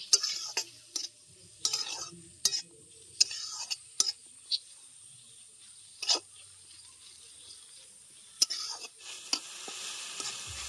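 Onion, garlic, tomato and ginger fry in a pan, soft sizzling beneath repeated sharp scraping and tapping strokes of a stirring utensil, close and irregular, with faint murmured speech.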